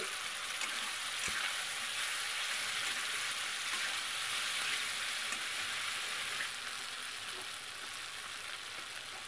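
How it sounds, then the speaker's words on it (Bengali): Fried potatoes sizzle and fry steadily in masala in a pan while cooking a vegetarian jackfruit curry, a dense continuous hiss with faint stirring, slightly quieter toward the end. "এবার ভাজা আলুগুলো দিয়ে দিচ্ছি। মশলার মধ্যে"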